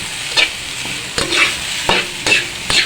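Food sizzles in a frying pan as a utensil stirs it, with four or five sharp scraping strokes spaced about half a second apart over a steady close frying hiss.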